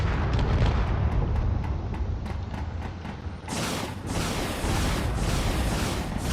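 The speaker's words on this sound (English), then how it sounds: "he's just firing away at everything" Relentless ship weapons fire in a space battle game, rapid heavy blasts and booming impacts pounding away at corvettes, loud and continuous with crackling explosions throughout.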